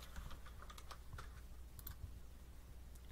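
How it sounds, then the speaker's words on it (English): Quiet typing on a computer keyboard while a new text file is written, a quick run of soft close key clicks at an uneven pace, with no voice. "let's type something here."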